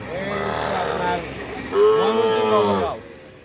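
Sahiwal bull calves and heifers low nearby, two loud drawn-out moos in quick succession, the second deeper and longer, close to the listener.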